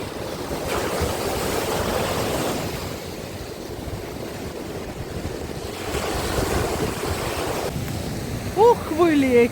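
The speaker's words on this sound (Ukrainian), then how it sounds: "морічка знов штормить і все змиває, все змиває" Stormy Black Sea surf in Odesa in winter washes steadily over the beach, a continuous wind-blown roar of breaking waves with swelling surges and gusty wind noise against the microphone throughout.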